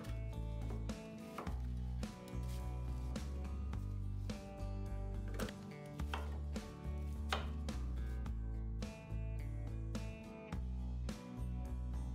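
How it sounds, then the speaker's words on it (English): Two large onions being finely minced in a food processor for lahmajun: a dense, fairly quiet motor whir broken into a rapid series of short pulses with brief gaps between them. "I will chop them very finely by using the food"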